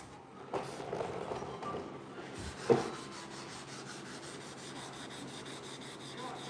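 Steady close rubbing as 400-grit sandpaper works over the front grille of a 1968 C10 truck, with one sharper knock partway through.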